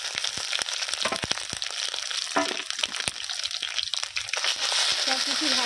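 Onion frying with garlic paste and ginger paste in a pan, a busy wet sizzle with crackles and stirring scrapes throughout, fairly close and steady.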